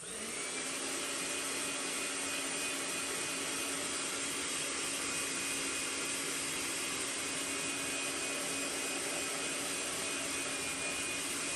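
A heat gun runs continuously to set paint on a fishing lure, a steady faint blowing whir with a constant tone and no other sounds.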